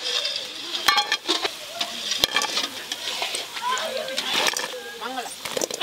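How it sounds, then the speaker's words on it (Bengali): Chili chicken pieces sizzle and fry in a pan, a soft steady crackle that stays under almost continuous nearby talking, with occasional clinks and stirring scrapes. "চিলি চিকেনের মাংসগুলো যে ভাজা হয়ে গেছে,"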